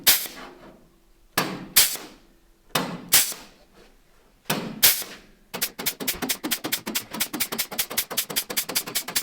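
A sheet metal recessing tool indents a steel panel during Jeepster restoration work: a few loud, separated metallic clanks, then a fast, even run of sharp hammering strikes.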